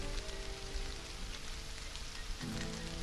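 Rain falling in the video game Stranded: Alien Dawn, a soft continuous patter of drops on surfaces at low level, with a faint tonal game ambience shifting near the end and no talking.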